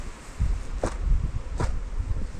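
A honeybee swarm settling into a new hive at an apiary, with a low, steady buzzing hum close by, broken by a few short rustling knocks and no talk.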